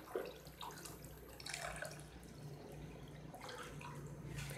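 Water is poured into a pot of split Bengal gram lentils and rice, a continuous close splashing and trickling over a faint steady hum, with brief surges in the flow.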